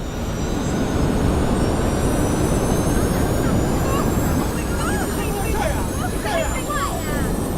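A jet airplane taking off in an action movie scene roars with a loud, steady engine rumble and high whine throughout, and faint voices are heard under the noise.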